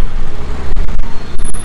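Loud, steady roar of traffic on a crowded street, with cars and buses rumbling close by and a brief high whine near the end.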